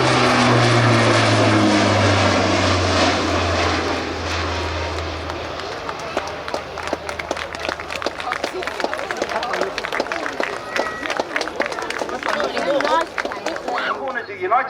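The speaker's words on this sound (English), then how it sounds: "C-130 Hercules" A C-130 Hercules at RAF Cosford roars with its propeller engines, a loud sustained drone whose low tones slide downward before settling into a steady pulsing rumble, with voices talking over it.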